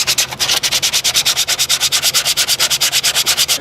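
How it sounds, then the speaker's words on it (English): Rapid, rhythmic sanding strokes rasp back and forth on a decorative wooden piano leg, close and loud, about eight strokes per second with no talking. "Just sanding this leg down."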